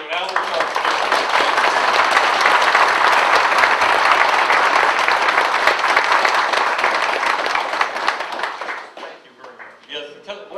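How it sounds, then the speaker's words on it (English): A vintage computer festival audience gives Commodore engineer Albert Charpentier a round of applause: loud, close, sustained clapping that holds steady for about nine seconds, then fades into scattered claps and faint voices. "Round of applause for Albert Charpentier."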